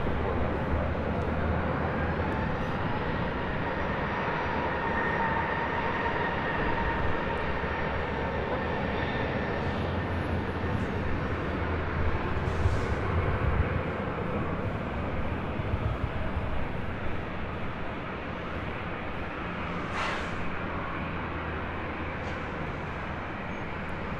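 An Alaska Airlines Boeing 737-800 bound for Seattle rumbles down runway 24 left at LAX on its takeoff roll, a steady broad engine roar with wind noise, heard from a distance.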